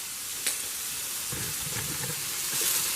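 Butter sizzles and crackles in a hot skillet, a steady close hiss with small pops and a brief stir partway through, and no talking.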